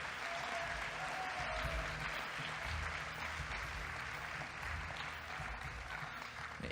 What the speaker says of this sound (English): Let's hear a round of applause real quick.